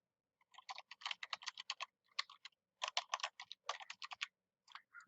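Password typed on a computer keyboard while joining a PC to a network domain: bursts of quick, close, crisp key clicks in uneven runs separated by short pauses, no voices.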